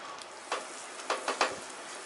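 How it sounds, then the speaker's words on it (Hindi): Whole green chilies and julienned ginger fry in melted butter in a pressure cooker, giving a faint, soft sizzle with a few brief louder spatters. "मिर्ची और अदरक को भून लेते हैं।"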